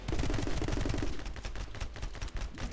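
Rapid video-game machine-gun fire targets the player, loud dense bursts of shots crackling without pause for almost three seconds.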